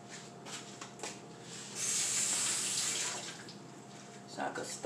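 Tap water runs into a kitchen sink while cooked spaghetti noodles are rinsed, a steady hiss that swells louder for a second or two in the middle and then eases back to a softer flow.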